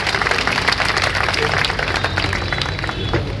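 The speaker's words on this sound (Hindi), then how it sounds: "हमारे अतिथियों के लिए जोरदार तालियां बजाकर स्वागत करें।" Applause from an audience welcoming guests at an outdoor inauguration ceremony for a sewerage line in Udaipur, a steady dense wash of many hands clapping that continues without break throughout.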